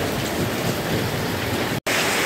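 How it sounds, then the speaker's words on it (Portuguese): A heavy hailstorm pours down in a dense, loud, continuous roar of falling hailstones and rain, with a brief cut of silence near the end. "Aí, pessoal, granizo puro agora."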